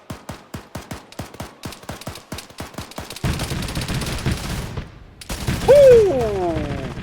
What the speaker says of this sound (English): It's because the MG's opened up.